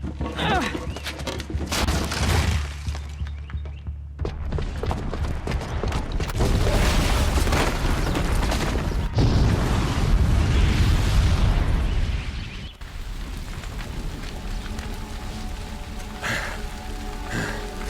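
A bomb rigged with a booby trap goes off in Horizon Zero Dawn, giving a sustained, loud, roaring blast with rumbling debris that keeps going for several seconds before easing into a lower, steady rumble.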